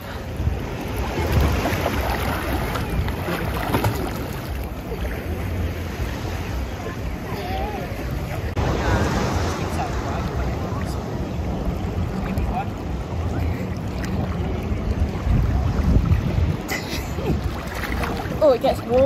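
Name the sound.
waves at a beach in Tenerife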